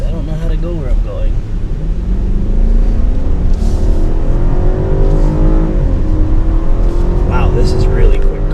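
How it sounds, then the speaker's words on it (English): A 2019 BMW 750i luxury sedan accelerates hard on a closed track, its engine note climbing steadily and loudly from inside the cabin, with people talking excitedly over the continuous rising drone. "Wow, this is a really quick car."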